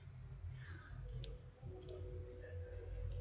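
A few sharp mouse clicks on a web app's geolocation button, quiet and close, set against a low steady background hum.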